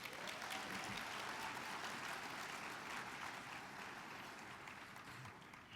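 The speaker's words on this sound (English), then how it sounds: "can you give them another round of applause?" Audience applause at a university conference on AI and HBCUs, a steady, even wash of many hands clapping that fades slightly toward the end.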